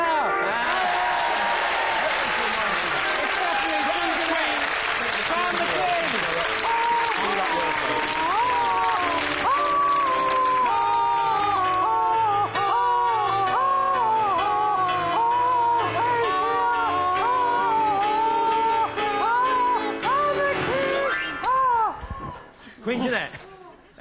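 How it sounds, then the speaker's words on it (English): A comedy-show studio audience applauds and cheers, heavy at first, then settling into continuous clapping. Bright warbling tones ride over it, and the clapping drops away abruptly near the end. "And if you like for number 3, who you obviously will win, Jeanette Muff, applaud now."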